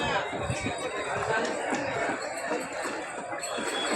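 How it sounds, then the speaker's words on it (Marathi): A dense crowd murmurs and chatters continuously at a night-time Ganesh idol immersion, a steady outdoor hubbub of many voices with occasional faint clinks. "दोन साईडला गर्दी आहे या साईडला"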